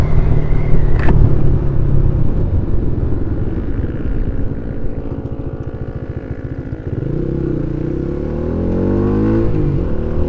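A Flame 150x motorcycle engine runs steadily up close with a loud, continuous rumble and light mechanical clatter, its pitch shifting partway through as the revs change, with no voices.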